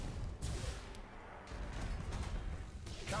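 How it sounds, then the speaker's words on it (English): Melter torpedoes launching from a warship in the space strategy game Battlefleet Gothic Armada 2, heard as a series of deep booming thuds and rumbling blasts that roll on continuously at moderate loudness. "I'll chuck out some torpedoes."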